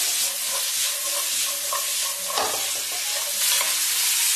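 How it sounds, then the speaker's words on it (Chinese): Green beans are stir-fried in a hot wok with oil, making a steady close sizzle with scraping stirring strokes throughout, no talking. "继续不停的煸炒，再给它煸炒个1分钟， 炒至豆角表皮微微起皱就可以"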